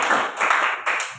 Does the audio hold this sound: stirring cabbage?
no